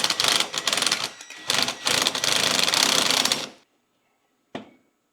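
A power driver buzzes and rattles while backing out a 7mm screw from the front bumper of a Jeep Patriot, two close bursts of whirring with a short break, then silence and a single brief click.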